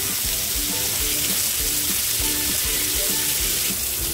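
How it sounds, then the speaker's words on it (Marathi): Prawns fry lightly in a pan for a prawn masala, giving a steady, close sizzle with soft scattered crackles throughout and no voices. "बघा ही कोळंबी हलकीशी फ्राय करून घेते"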